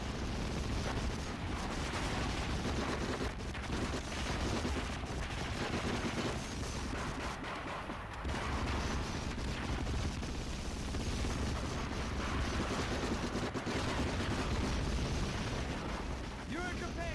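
Dense, continuous battle din from a Medal of Honor game: loud overlapping gunfire and booming blasts rolling without pause, with shouted voices mixed into the barrage.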